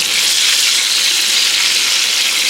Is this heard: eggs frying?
yes